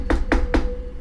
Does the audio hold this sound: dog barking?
no